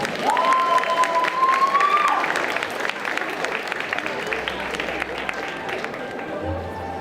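Applause and cheering from the crowd at a cosplay contest at Japan Party 2023, loud at first and then settling into steady clapping, with a long whistle near the start and voices in the crowd.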